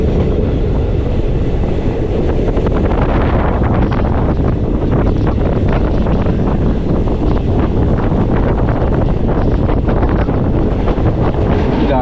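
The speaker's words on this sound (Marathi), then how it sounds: "गाडी आपली साधारण सत्तर पंच्याहत्तरच्या स्पीडने चालली आहे" The Tutari Express runs along the Konkan Railway at speed, heard from inside as a loud, continuous rumble and rattle of wheels on track, with heavy wind roar throughout.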